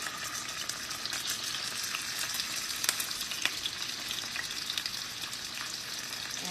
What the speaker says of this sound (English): We're gonna sear this in olive oil.